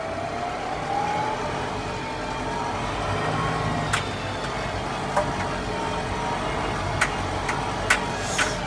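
A McCormick X4.100F tractor with P3-Drive powershift transmission runs at a steady engine drone inside the cab, with faint clicks and brief shift ticks scattered through, no voices.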